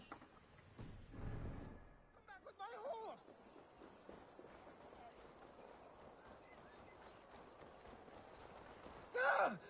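Video game horse hooves clip-clop in a quick rhythmic patter through the middle, moderately close, with a short burst of a whinny near the end and speech around it.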